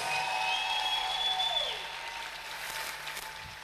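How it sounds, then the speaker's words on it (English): Audience applause at a live stage show, a broad wash of clapping that starts full and then thins somewhat, heard under a lingering sustained tone that glides down and fades out early on. "Give them a big round of applause."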